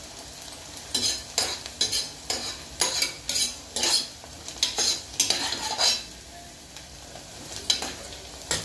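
Onions fry in a pan for a Telangana-style mutton gravy, a soft sizzle broken by repeated rhythmic scrapes of a spoon stirring against the metal, close and steady.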